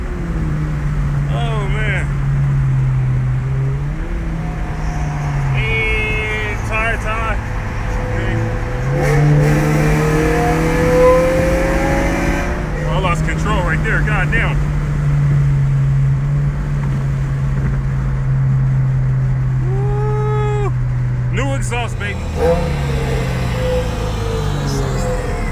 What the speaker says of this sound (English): This exhaust is crazy.